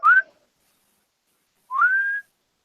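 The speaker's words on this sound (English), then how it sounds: "We can hear you whistling" A person whistles into a microphone, two short rising notes with a pause between, the second longer and held, clear and alone.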